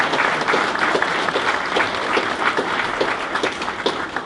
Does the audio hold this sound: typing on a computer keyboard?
no